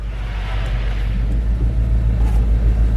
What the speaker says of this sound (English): Give it a little gas. A little more. Floor it.